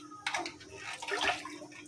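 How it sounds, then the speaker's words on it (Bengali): Water is poured into a pot for curry gravy in a home kitchen, a short splashing pour starting abruptly and swelling briefly, fairly quiet and close, with a faint background hum. "তরকারি ঝোল যাওয়ার জন্য পানিটা নিলাম।"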